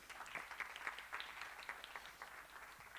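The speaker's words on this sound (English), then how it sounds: "Please give them a round of applause." An audience at the Eswatini Green Indaba 2024 claps for a panel after its discussion, a soft, distant ripple of steady applause heard at low level throughout.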